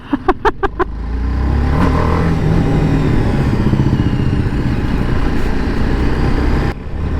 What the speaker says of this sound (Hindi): बाइक का एग्जॉस्ट नोट जो है काफ़ी ज़्यादा तगड़ा, काफ़ी ज़्यादा कड़क मेरे दोस्त।